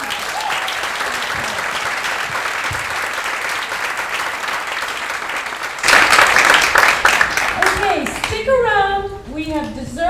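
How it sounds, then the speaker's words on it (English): Sustained round of applause from an audience at a tech and homelessness event, steady dense clapping for several seconds before a voice begins speaking over the fading claps. "So I want you to give a round of applause for her."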